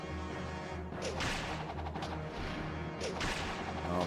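An enemy ballista in Fire Emblem Path of Radiance fires with sharp whip-like snaps and whooshing impacts, two distinct bursts over a steady musical background, moderately loud.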